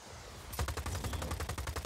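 Gunfire from an enemy firing rockets in the video game Just Cause 4: a dense volley of rapid, loud repeated blasts and thumps. It starts abruptly about halfway in and continues steadily to the end, with no talking.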